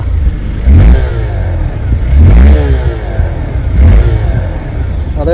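Hero Xpulse 200 4V motorcycle engine revved in three quick throttle blips, each rising sharply and falling back to idle, loud and close over a steady low rumble.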